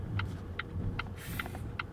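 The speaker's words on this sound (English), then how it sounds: "I don't know if you guys can hear the engine, but it's fairly audible, and it's not a good sounding engine" A 2016 Volvo XC90's four-cylinder engine runs at a steady idle, giving a continuous low hum with a regular ticking pattern that repeats about every 0.4 seconds.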